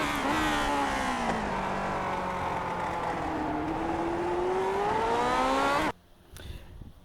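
A Lotus 49 racing engine in the iRacing game at Sonoma wails loudly and steadily at high revs, its pitch sagging and climbing through corners and a short-shift before it cuts off abruptly near the end.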